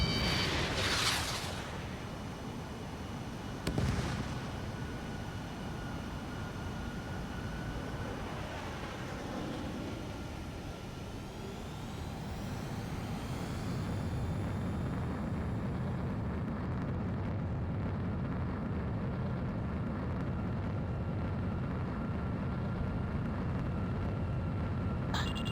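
Jet engines roar steadily through an Ace Combat 7 dogfight, with sharp missile launches and explosive bursts early on, then a continuous rising turbine whine and rumble; no talk.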